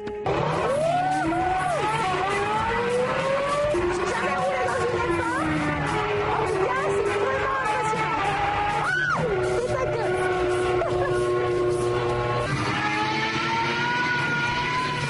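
A high-pitched Formula 1 simulator engine screams loudly and continuously, its pitch rising and falling through repeated gear shifts, with a brief sharp whine in the middle.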